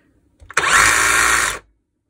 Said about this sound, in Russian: Дальше включаем режим сверления просто.